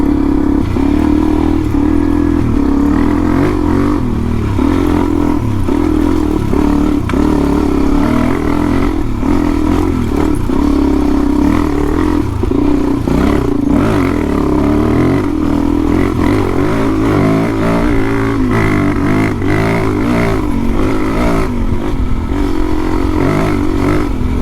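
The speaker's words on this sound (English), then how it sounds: "Cars." Steady, loud engine drone from a motorcycle riding along a road, with traffic noise mixed in. The rumble and wind run without a break and rise and fall slightly as cars pass.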